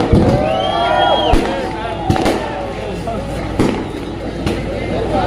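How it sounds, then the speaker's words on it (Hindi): Sharp bangs and crackles of fireworks go off at irregular intervals amid a busy crowd murmur at an outdoor political rally in Malegaon, India, with whistling streaks rising through the noise. "ये जो पटाखेबाजी हो रही है ये हम नहीं कर रहे।"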